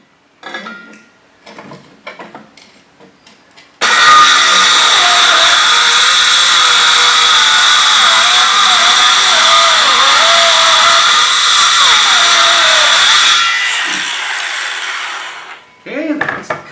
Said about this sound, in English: skill saw here up to 1/2 inch, which should go through the fiberglass and most of the way through the plywood